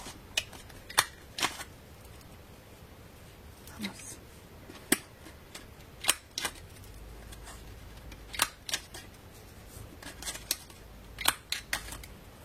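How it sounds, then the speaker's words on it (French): An eyelet punch cuts through scrap paper in a long run of sharp, crisp clicks and snaps, some single and some in quick pairs, close and clear over quiet background. "j'utilise ma perfo œillet avec, voilà, tout simplement une chute de papier"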